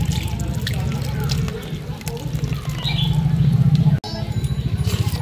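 Warm dissolved powdered-milk liquid pours into a steel bowl, a continuous close trickle and splash that runs for several seconds with a brief break near the end, under faint background noise.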